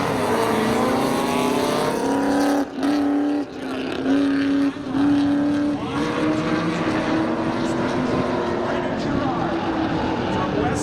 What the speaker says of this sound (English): matching up against Aaron Lynch in his 1996 Chevy Camaro from North Providence, Rhode Island